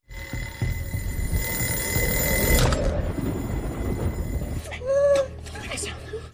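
An alarm rings steadily over a loud, busy background with voices, then stops abruptly, followed by a brief wavering cry.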